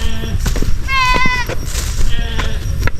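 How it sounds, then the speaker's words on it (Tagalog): Goats bleat in a grassy farm field, a few wavering cries standing out over someone talking and rustling movement nearby. "ating mga kambing hello may maliit na kambing din doon sa unahan"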